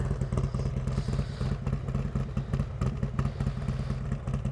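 2017 Harley-Davidson Street Glide Special with just over 11,000 miles idling nearby, a loud, deep, steady lumpy V-twin rumble with a rhythmic throb throughout.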